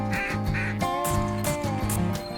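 Cartoonish duck quacks from the Duck Dynasty hunting video game ring out in a quick run of several nasal calls, loud and close against a busy game soundtrack.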